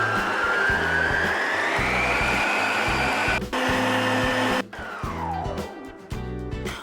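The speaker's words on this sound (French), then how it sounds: "on la met dans le bol du robot, muni du batteur plat, et on actionne le robot pendant 2 minutes" A stand mixer fitted with a flat beater whips coconut cream in its bowl, giving a loud, steady motor whir with a rhythmic churning pulse that shifts in pitch and briefly stops before running again.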